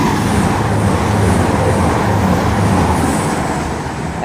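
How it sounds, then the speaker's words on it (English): A loud, steady rumble of a passing Class 222 Meridian train at Elstree & Borehamwood, with a broad roaring wash that fades slightly toward the end. "This should be formed of another class 222 Meridian."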